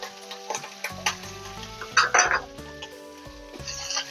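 Curry leaves dropped into hot oil for Telangana sesame pachi pulusu crackle and sizzle in a busy spitting burst, with several sharp pops and a louder flare of frying near the middle, no talk.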